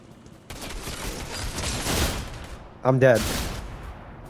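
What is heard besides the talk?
gunfire in the video game Fortnite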